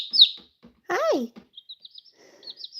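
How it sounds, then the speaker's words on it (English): Baby chicks give loud, high peeping chirps close by, a few quick cheeps followed by softer scattered peeps, with a brief voice-like call in the middle. "The chickens has something to say today."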